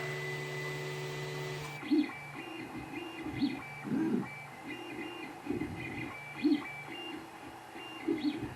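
A 3D printer running a print in grey filament gives a steady mechanical hum with faint whining stepper-motor tones, broken by a series of irregular clunky bursts as the head moves. No one speaks.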